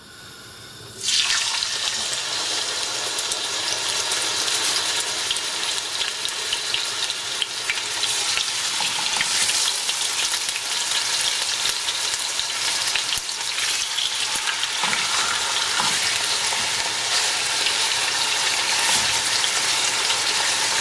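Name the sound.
pork chops browning in hot oil in a pan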